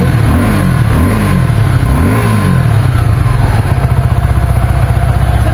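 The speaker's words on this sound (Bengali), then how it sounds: "আর এছাড়াও আমি যদি একটু পিক আপ দেবে, একটু পিক আপ" Twisting the throttle on a Suzuki Gixxer SF 250 motorcycle, the engine revs up and falls back in a couple of quick rising and falling pulls, then settles into a loud, close, steady idle.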